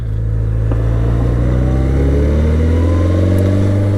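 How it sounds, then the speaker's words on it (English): Continuous, loud, close engine note from a BMW K1100LT motorcycle, its pitch climbing gradually as the engine is taken up through the rev range. "if you really want to get the performance out of the bike, you can hold on to it a bit and obviously take it through the rev range a bit."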